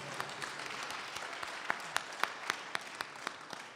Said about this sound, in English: I think you should clap a little louder than that, people.